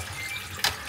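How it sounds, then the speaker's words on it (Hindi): Inside an open running dishwasher, hot water sprays from the holes with a steady hissing wash, close by, broken by one brief sharper splash near the end. "तो ये देखिए, ऐसे इन होल्स में से पानी आता है और स्टीम भी आप देख सकते हो, गर्म पानी आता है गर्म।"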